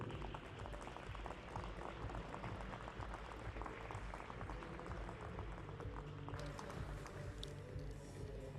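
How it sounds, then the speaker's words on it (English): A crowd at a men's 10m air pistol SH1 final at the WSPS European Championships in Hamar applauds an athlete, giving steady, continuous clapping at a fair distance. "A big round of applause, please, for Gila Gurusati."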